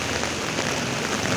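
Heavy rain pouring steadily outdoors near a pond, a dense, even hiss of drops that stays constant and loud throughout, with no voices.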